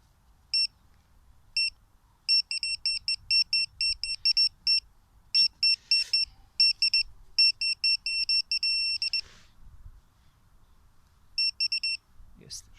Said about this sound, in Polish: Dosyć ładny monetkowy sygnał tutaj, zobaczcie sami.